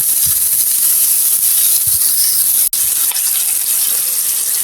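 Thinly sliced onion and a few garlic cloves browning in hot oil in a pan, a loud continuous close-up sizzle and hiss with no pauses and no talking.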